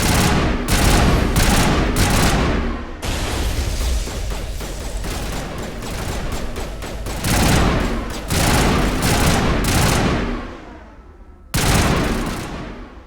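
Gunfire in Mass Effect aimed at an enemy's knee: loud, close bursts of rapid shots in clusters, with one long sustained volley in the middle and brief pauses between bursts.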